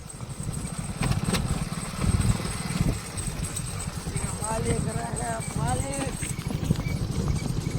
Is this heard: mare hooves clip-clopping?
yes